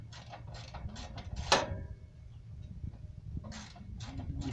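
A ratchet working on nuts of a Rolls-Royce Silver Spirit front grill gives short bursts of close, dry clicking, several quick runs with a pause in the middle.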